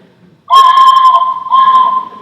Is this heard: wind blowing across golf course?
no